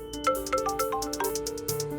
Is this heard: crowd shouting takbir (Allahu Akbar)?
no